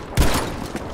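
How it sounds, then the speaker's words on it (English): A shotgun fires in the Battlefield 5 video game, one loud close blast with a trailing boom over a dense bed of game noise. "This shotgun's not bad if you can get right at their faces."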